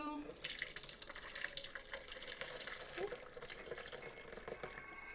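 Rosemary-infused cream poured through a strainer in a home kitchen, a steady, close running trickle of liquid that keeps going without a break for several seconds, with small splashes scattered through it.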